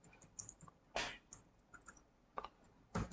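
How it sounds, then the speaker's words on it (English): Soft keystrokes tap on a computer keyboard in a quiet room, arriving in sparse irregular clusters with small pauses between. "Then you can start typing in your text box."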